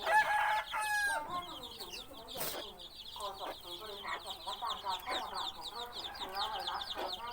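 Young fighting cocks crow repeatedly, overlapping each other with clucks and other fowl calls at close to moderate distance, while someone talks intermittently over them.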